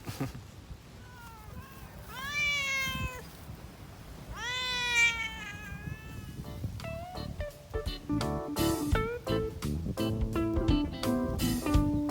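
A cat meows repeatedly and insistently near shrimp bait made with small fish-food, its drawn-out rising cries close and loud, followed by a busier stretch of clattering and other noise.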